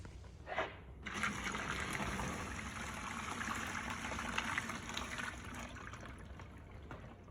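Boiling water pours steadily into a container, a continuous rushing, gurgling stream that stays fairly even throughout and is heard faintly.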